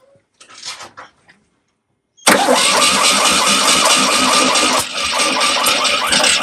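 After a couple of seconds of faint background noise, a Fiat 126's small engine cranks and catches abruptly, then runs loud and steady with a rough idle, briefly dipping in level before picking back up.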